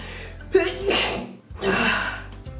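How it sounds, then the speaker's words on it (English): Two sharp sneezes come close together, each opening with a quick inhaled gasp, loud and near. "I have the weirdest sneeze ever"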